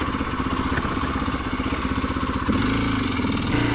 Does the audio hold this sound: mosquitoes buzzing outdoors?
no